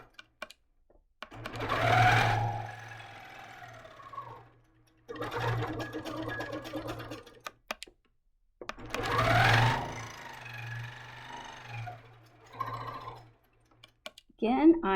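A longarm quilting machine stitches straight crosshatch lines guided by an HQ Skinny Ruler in gold metallic-look thread, giving fast mechanical whirring bursts separated by short pauses. A voice talks between and over the stitching runs.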